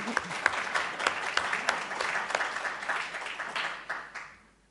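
Applause from a lecture hall audience, a dense patter of many hands clapping steadily for several seconds, then quickly fading out.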